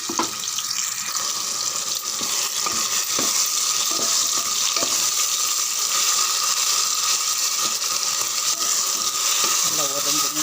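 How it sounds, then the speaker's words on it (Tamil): Ground ginger garlic masala paste sautés in hot oil for chicken biryani, a dense, loud, continuous sizzle and hiss with occasional faint scraping from stirring, close up and steady throughout. "நல்லா ஒரு 2 நிமிஷம் 3 நிமிஷம் நல்லா வதங்கட்டும்"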